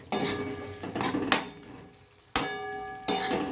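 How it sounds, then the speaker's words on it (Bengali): Potato curry for luchi sautéed in ghee in a pan, with several loud bursts of stirring and scraping over a soft, steady sizzle, up close and without talk. "একটু ভালো করে একটু কষিয়ে নিই ঘি দেবো"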